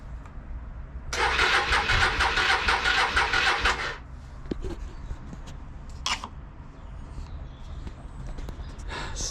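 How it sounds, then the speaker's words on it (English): Motorbike starter cranking on a weak battery, a loud rapid chugging burst of about three seconds that fails to catch and falls into quiet, followed by a few faint clicks and knocks. "Trying to get it fired up, but there's just, I don't think there's enough juice in the battery to get it going."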